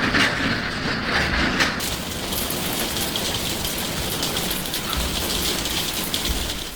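Heavy rain pours steadily during a severe thunderstorm, a dense, loud, continuous hiss of rain on surfaces that holds constant throughout with no voices.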